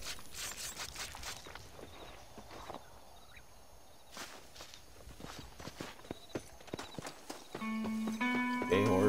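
A horse walks in the Red Dead Redemption 2 video game, its hooves clip-clopping in an uneven rhythm close by, with someone speaking and game music rising toward the end.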